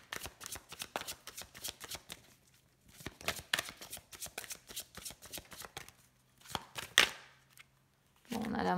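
A deck of oracle cards being shuffled and cut, rapid riffling flutters in repeated bursts with brief pauses, close and quiet, ending with a louder shuffle.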